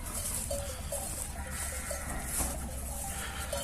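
Several sheep bleat over a continuous outdoor rumble, with short repeated calls at moderate distance and no talking, in a village with trucks passing on nearby roadworks.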